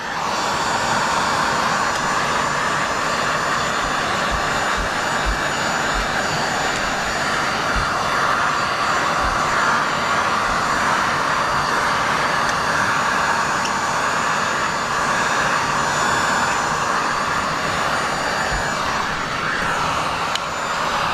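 A window-tint heat gun runs in cool-down mode while tinting a 2023 Toyota Camry back glass, giving a continuous, even, close airy hum and whir that holds steady the whole time, heard alone.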